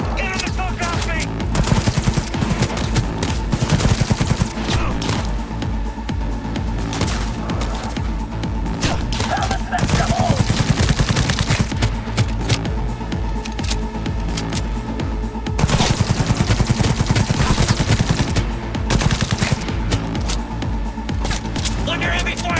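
Dense, heavy gunfire in the video game Cyberpunk 2077: rapid automatic bursts and booming shots pile up continuously and loudly, with shouting voices mixed in.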